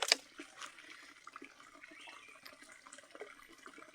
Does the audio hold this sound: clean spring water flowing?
yes